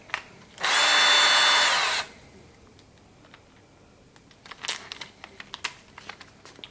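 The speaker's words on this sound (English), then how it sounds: "so we just drill down to the sticky tape." A power drill bores a pilot hole into wood in one loud whirring burst of about a second and a half, followed by quieter clicks and handling taps.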